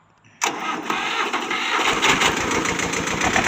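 A small 22-horsepower rear-wheel-drive diesel tractor starts after glow plug preheating. It fires abruptly out of near silence, then runs loud and close in a rough, knocking diesel idle.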